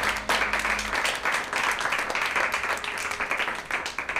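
An audience claps steadily at a live entertainment show, a fairly faint, continuous patter of applause heard alone, without voices.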